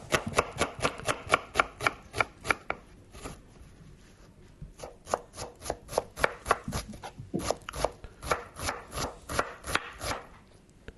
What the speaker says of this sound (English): you do need really sharp knives to cut onions like this